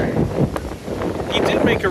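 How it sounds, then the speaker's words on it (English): Gusty wind buffets the microphone with a low, rumbling roar beside Lake Michigan, and a voice is faintly audible beneath it. "It's just a bit windy."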